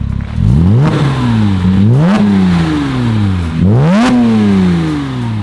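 A Porsche Cayman S (987) with a Valvetronic exhaust, valves closed, revs up and down repeatedly, the engine pitch rising and falling in several loud, close blips with a throaty, rattling edge.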